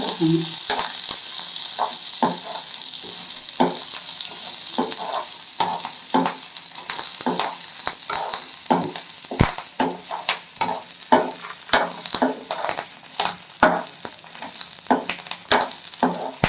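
Spices fry in a pan for a Thoothukudi-style okra masala gravy, giving a constant crackling sizzle. A spoon scrapes and stirs the pan with repeated sharp clicks, and no one speaks.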